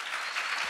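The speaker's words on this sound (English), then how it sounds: "the intensity of your clapping will tell me" A press-conference audience applauds in a steady, dense wash of many hands clapping, moderately loud and continuous with no voices over it.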